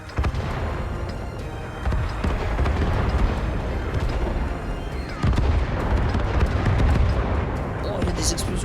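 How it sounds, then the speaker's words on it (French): Rapid bursts of explosions and cannon fire from World of Tanks gameplay with a KV-1 tank, loud and continuous with dense booming throughout, no voice over them. "Oh, il y a des explosions trop cool."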